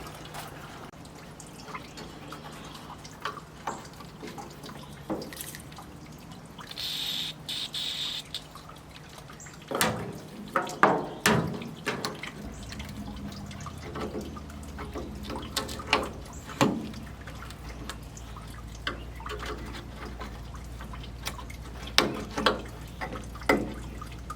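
Coolant drains from a 1964 Pontiac LeMans in a quiet garage, with faint irregular drips and trickles, then clusters of sharper splashes and small knocks in the later half.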